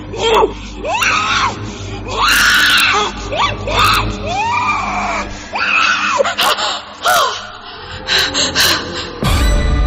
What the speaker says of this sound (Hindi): सोनम चीखते हुए उठी